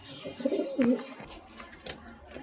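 A pair of bloodline pigeons coo in a brief close burst as they are let go, followed by scattered light flutters and taps.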